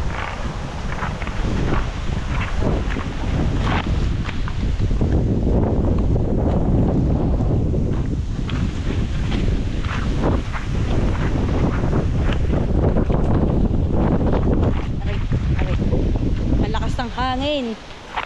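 Strong wind buffets the microphone outdoors, a loud continuous roar with gusty surges, while people talk beneath it.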